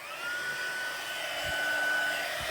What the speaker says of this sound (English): we'll bring in the heat gun again and we will heat emboss